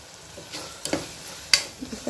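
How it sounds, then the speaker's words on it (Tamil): Beef gravy sautés in a pan, a quiet sizzle under occasional sharp clinks and scrapes of a spoon stirring against the pan. "கிரேவி நல்லா வதங்கிக்கிட்டு இருக்குது."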